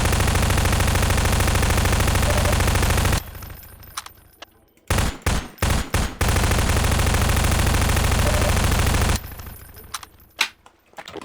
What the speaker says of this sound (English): I'm shooting it a lot and it's not... Seems to be quite unaffected.